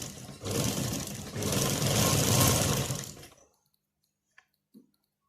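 A sewing machine stitches along the edge of a baby collar on a printed fabric frock in two close, continuous whirring runs, then stops. A couple of faint clicks follow in near silence.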